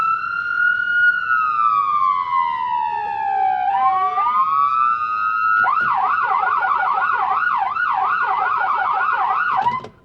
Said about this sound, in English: if you want to sound like an armada of ambulances are coming, you can hit dual